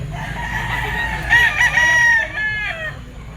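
A young stag rooster crows loudly and close by at a market, one drawn-out wavering cock-a-doodle-doo rising over soft background murmur and faint clucking.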